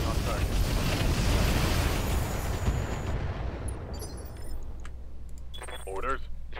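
Mech weapons fire on a target in the video game Roguetech BattleTech: a dense, roaring barrage of booms for about three seconds, fading into quieter rumbling while a voice briefly speaks.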